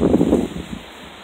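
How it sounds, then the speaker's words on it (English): Strong wind buffets the microphone in low, rumbling gusts that fade after a moment. "It's extremely windy."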